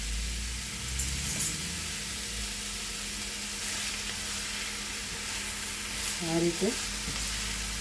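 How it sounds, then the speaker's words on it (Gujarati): Mixed vegetables for a paratha filling fry and sizzle in a pan over low gas while being stirred, a steady hiss with occasional scraping; a voice briefly speaks near the end. "તેને બરાબર આપણે હલાવતા રહેવાનું છે."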